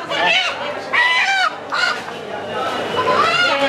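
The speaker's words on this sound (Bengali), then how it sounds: "দেশি মোরগ মুরগি।" Local desi roosters and hens at a market raise bursts of clucking and squawking, fairly close and loud, with some background chatter of people around.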